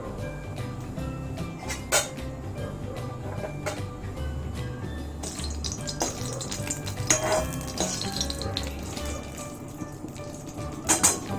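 Dried red chillies sizzling in hot oil in a wok, a continuous crackling fry with metal utensil scrapes and clinks against the pan, close and with no talking.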